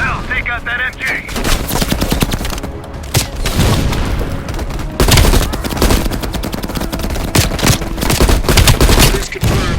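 Loud, dense automatic gunfire and sharp bursts in Call of Duty: Black Ops Cold War during an assault on a machine gun position, with rapid overlapping shots and booming impacts continuing throughout.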